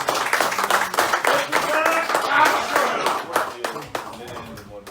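Clapping from a crowd at a fundraising event in Oakland, California, uneven and lively with individual hand claps standing out, while voices and cheers mix in throughout.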